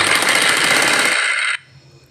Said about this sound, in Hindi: ये हमें आधा इंच आगे की ओर छोड़ते हुए इस पर सिलाई लगा लेनी है।